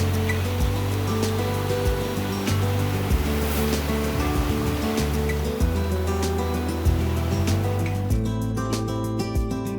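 Steady wash of wind-driven waves with whitecaps on Toledo Bend Reservoir, Louisiana, with low rumbling underneath, continuous and fairly loud, with no talking.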